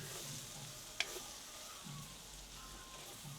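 Crushed garlic frying in a pan for a bitter gourd stir-fry, a steady faint sizzle throughout with a single sharp tap of a utensil near the start.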